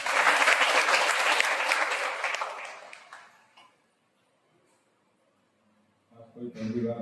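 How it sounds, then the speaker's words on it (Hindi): A church congregation at a Sunday service applauds loudly with dense, sustained clapping that fades out after a few seconds, leaving near silence before a voice begins speaking. "आइए उस पवित्र परमेश्वर के लिए एक बार जोरदार तालियां हो।"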